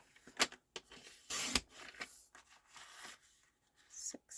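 A paper trimmer blade slices through card stock in one quick rasping swipe, followed by smaller scrapes and paper handling, with soft, low talking nearby.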